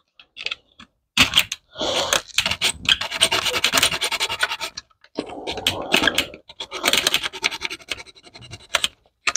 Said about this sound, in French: On va remettre un petit coup de lime.